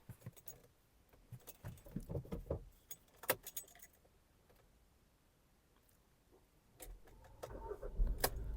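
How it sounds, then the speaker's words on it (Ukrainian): Keys jangle and click, then a Skoda Superb engine cranks and starts, settling into a steady idle rumble close by. "Двигун запускається чудово, оберти не плавають"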